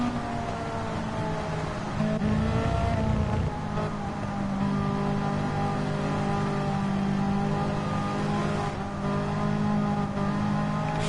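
A race car engine drones steadily through a lap at the Fuji round of a WEC multi-class endurance race, a continuous, moderately loud mechanical tone that shifts pitch slightly with no voices over it.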